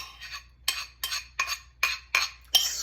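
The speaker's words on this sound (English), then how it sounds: "Scraping, clawing." A utensil scrapes brownie batter out of a mixing bowl for chocolate peanut butter caramel wedge brownies. About seven close, raspy strokes come in a fairly steady rhythm, each a short gritty sweep, with no talking.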